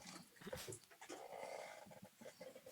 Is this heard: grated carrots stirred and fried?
no